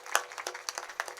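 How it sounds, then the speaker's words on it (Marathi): Scattered hand claps for the girl cymbal players at a Marathi kirtan, about half a dozen sharp, uneven claps over a second, fairly quiet, with no voices. "ह्या सगळ्या मुली टाळकरी यांच्यासाठी एकदा जोरदार टाळी वाजवा."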